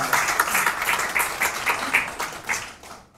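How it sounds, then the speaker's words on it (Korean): A brief burst of audience applause at a political labor policy forum, dense rhythmic clapping that stays steady for about three seconds before cutting off. "큰 박수 한번 부탁드립니다"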